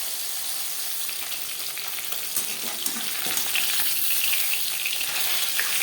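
Eleven pieces of pabda fish fry in hot oil in a pan, giving a steady, dense sizzle and crackle that grows slightly louder throughout, with no voices.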